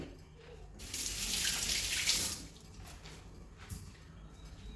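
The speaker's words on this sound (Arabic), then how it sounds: "بطبيعة الحال نغسل يديا" Tap water running as hands are washed at a kitchen sink, a close gush for about a second and a half that then cuts back to quieter splashing and drips.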